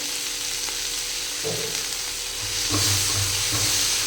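Mushroom masala with cashews and coriander fries and gets stirred in a pan, giving a steady close sizzle broken by spatula scrapes and a louder stir near the end.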